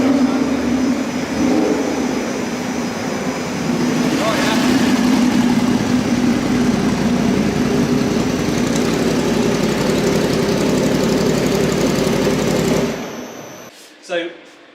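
A Norton motorcycle engine runs steadily on a factory test rig, a loud continuous drone that holds for most of the stretch before cutting off abruptly near the end, followed by a brief clunk.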